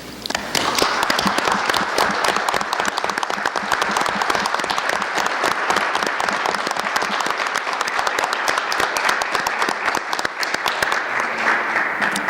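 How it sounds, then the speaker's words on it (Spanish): A forum audience gives warm applause to welcome a guest, the granddaughter of General Emiliano Zapata. The clapping is dense, steady and sustained for over twelve seconds, filling the room with no pauses and no speech. "Zapata, nieta del general Emiliano Zapata, a quien recibimos con un cálido aplauso."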